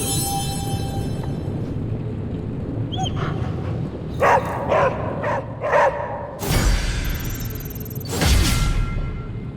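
A dog in Marvel's Midnight Suns gives a handful of short barks and whimpers near the middle, fairly close and loud, with whooshing game effects after it and no talking.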